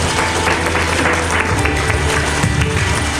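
Loud, dense applause from an audience at a village workers' honouring ceremony, continuous clapping filling the hall, with crowd noise and some voices mixed in.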